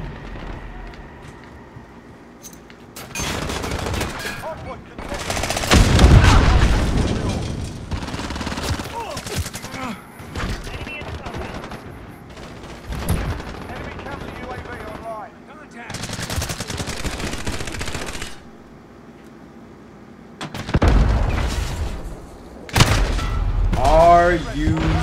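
Gunfire in the Call of Duty video game on the Petrov Oil Rig map, loud rapid bursts and heavy booms alternating with quieter gaps, with a player talking in between.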